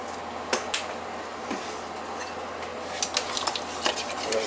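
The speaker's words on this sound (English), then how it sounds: "We're going to keep stirring it." A spoon scrapes and clinks against a pot while thick meat sauce for macaroni is stirred over low heat, with a soft sizzle underneath and a few sharp knocks spaced through the stir, close and moderately quiet, no talking.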